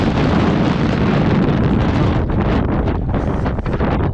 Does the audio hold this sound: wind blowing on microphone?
yes